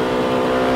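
Race cars at the 1998 Pennsylvania 500 NASCAR race, a loud steady engine roar from the pack passing through, continuous and close with no talk.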